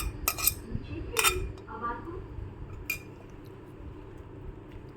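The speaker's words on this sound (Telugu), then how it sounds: "విధంగా ఈ అల్లం వెల్లుల్లి ముద్దని కలిపేసుకొని" Ginger garlic paste being mixed into mango pickle in a metal pot, with a few sharp clinks of a spoon against the vessel early on, then quieter scraping and stirring.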